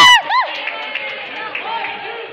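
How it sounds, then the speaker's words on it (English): An audience at a school student election meeting cheers and applauds after a shouted voice, a continuous crowd roar with scattered whoops filling the short moment. "Let's give them a round of applause"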